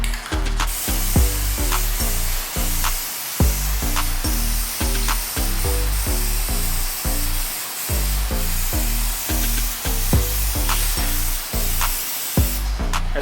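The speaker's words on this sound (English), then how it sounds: "Spray one coat down, you know what I'm saying?" Steady hissing spray of a coating from an aerosol can onto a gun case runs almost continuously, broken by brief pauses, with a rhythmic low thumping pulse beneath it throughout.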